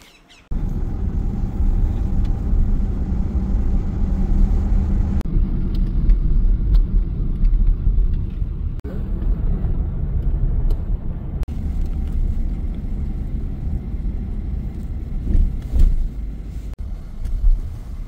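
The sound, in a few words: car driving, heard from inside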